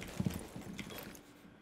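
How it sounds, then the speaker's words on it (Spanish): Magazine reload in Rainbow Six Siege: a couple of sharp mechanical clicks near the start, followed by lighter metallic handling rattles that fade away over a moment. "Reponiendo cargador."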